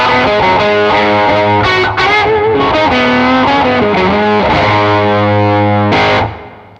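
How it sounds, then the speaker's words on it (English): Heavily distorted guitar-like tones from a Karma Suture fuzz stacked on a bicycle delay, loud saturated chords and bent notes with smeared echoes, ending in a fading tail. "then I'm just going to slam it with the Karma Suture."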